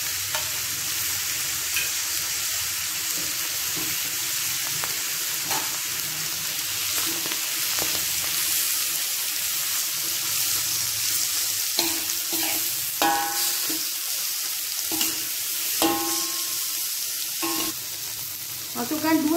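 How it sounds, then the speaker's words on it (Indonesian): Tomato and turmeric sautéing in a pan, a steady close sizzle with scraping stirs and scattered clinks of a utensil against the pan, with no voice over it. "Tumis selama 2 minit."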